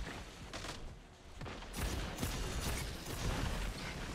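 Game gunfire from Destiny 2, a rapid burst of broadband shots and booming impacts that swells louder partway through and continues in dense volleys, fairly close and loud.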